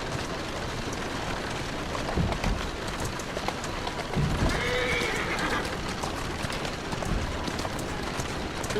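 A horse in the video game Assassin's Creed Syndicate whinnies while its hooves clip-clop at a steady pace, with a rain-like hiss underneath and no talking.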